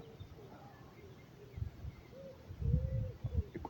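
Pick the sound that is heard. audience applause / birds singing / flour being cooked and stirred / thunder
birds singing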